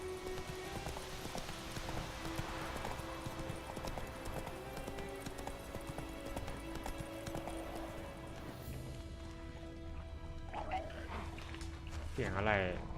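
Roach, the horse in The Witcher 3, gallops with quick rhythmic hoof clip-clops under game music and a speaking voice, ending in a brief whinny-like sound near the close.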